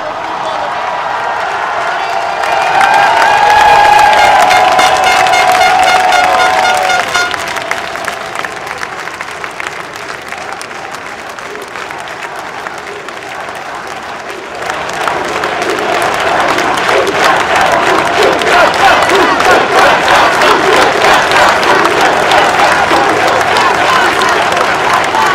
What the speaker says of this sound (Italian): una folla in delirio, è fantastica sta qua